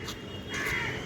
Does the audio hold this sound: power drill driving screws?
no